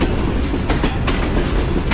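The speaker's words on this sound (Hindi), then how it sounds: "ट्रेन इस वक्त पहुँच रही है हमारी डेरा नवाब साहब रेलवे स्टेशन पर" A passenger train rolls into Dera Nawab Sahib railway station, heard from on board as a loud, steady rumble with rhythmic clickety-clack of wheels over rail joints.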